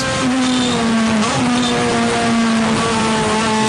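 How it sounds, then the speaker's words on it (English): A loud Acura TSX race car engine roars close by during a 2010 World Challenge race at Mosport, its tone stepping down and rising again as it downshifts, with a steady mechanical whine throughout. "Listen to the bark of that downshift on that Acura"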